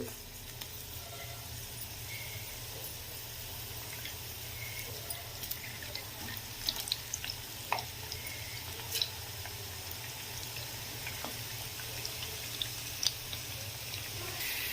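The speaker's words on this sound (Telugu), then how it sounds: "ఆయిల్ అనేది మరిగిన తర్వాత ఈ పీసెస్ని మనం మంచిగా ఇందులోకి వేసుకోవాలి." Okra pieces deep-frying in hot oil for a crispy okra snack: a steady, soft sizzle with scattered small pops and crackles, running evenly throughout with no talking.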